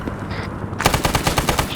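Rapid automatic gunfire in the Arma 3 military shooter game, a loud close burst of evenly spaced shots that starts abruptly after a brief quiet moment.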